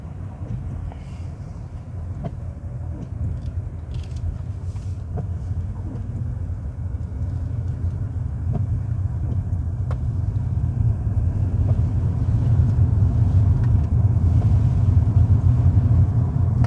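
A car pushes through deep floodwater during Storm Bert in Snowdonia, a loud, continuous rumble and wash that slowly swells as it goes.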